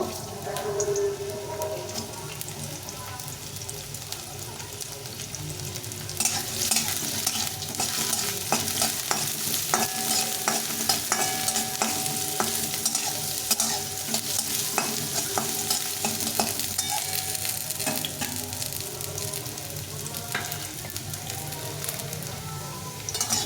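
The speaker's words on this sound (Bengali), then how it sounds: "আলুটাকে একটু ভেজে নেব" Potatoes fry in a pan for vegetable chow mein, a steady dense sizzle with spatula stirring and scraping throughout, getting louder partway through, no talk.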